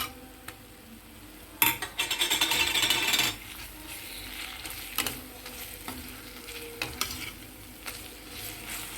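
Chicken pieces and onion fry in a pan as a spoon of ginger garlic paste goes in. A loud burst of sizzling comes first, then it settles into steady frying with occasional sharp stirring clinks against the pan.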